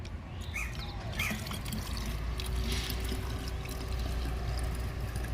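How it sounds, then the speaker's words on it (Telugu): Water being poured into a one-litre bottle already holding a quarter litre of Thums Up, mixed to make a garden spray against pests; a steady, continuous trickling pour, close and fairly soft, with no talking. "ఒక పావు లీటరు నీళ్లు గడుపుతున్నాను"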